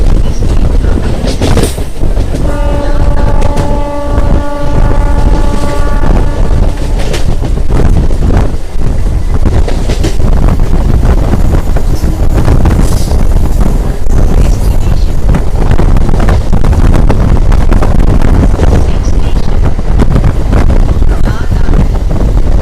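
A MEMU passenger train rolls along heard from inside the coach, a loud steady rumble with rattling and clanking, buffeted by heavy wind noise and briefly joined by a horn-like tone early on.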